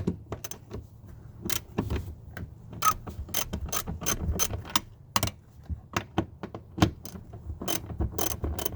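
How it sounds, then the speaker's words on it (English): A hand ratchet loosening the central nut on a Grand Prix rear seat, close-up, with sharp clicking bursts in irregular runs and short pauses between strokes, no talk. "I'm going to take off this central nut here now."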